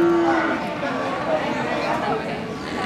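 Young beef cattle moo at a busy livestock market in Bojonegoro, East Java, with one loud low bellow early on, then steady crowd chatter and other animal sounds throughout.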